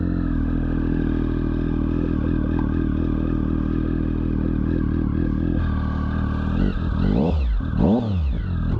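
Triumph Speed Triple motorcycle engine running close and loud at a steady idle, then a few blips of the throttle revving up and down near the end, with no voices.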